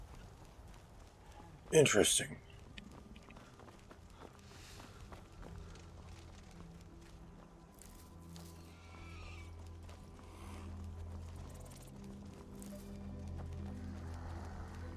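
Horse sound effect for a ghost horse in a fantasy adventure story: a sharp, loud whinny near the start with clip-clop hoofbeats, then a faint lingering background as a voice speaks briefly.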